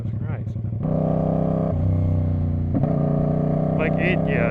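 A straight-piped 450 motorcycle engine revs hard and steadily, a loud, buzzing, harmonic-rich drone that holds for several seconds with a brief dip and surge partway through, while a voice speaks over it near the start and end.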